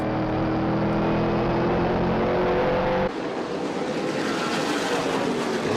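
Loud, steady roar of a race car engine heard from onboard Preston Peltier's number 5 AP Chevrolet during an ASA Southeast Asphalt Tour race, with a sudden shift in tone partway through as the pitch drops.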